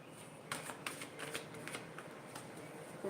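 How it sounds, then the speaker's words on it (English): A deck of cards being shuffled close up, with a few quick riffling bursts over a steady low room hiss and no clear talk. "it does take me a little bit of time to shuffle and connect"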